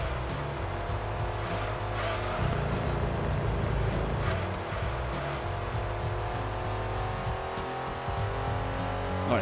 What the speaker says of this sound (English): Use that low-end grunt of the Cougar.